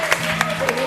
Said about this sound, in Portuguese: A salva de palmas para Jesus.